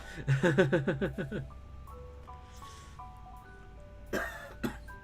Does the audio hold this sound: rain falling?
no